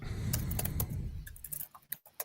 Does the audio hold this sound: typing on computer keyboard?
yes